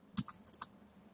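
Computer keyboard typing, a short burst of a few quick, close clicky keystrokes in a quiet room.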